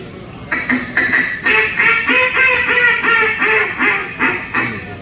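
A series of rapid nasal quacks from a mallard hen duck call, imitating a young hen, rising then tapering in a descending sequence, close and fairly loud.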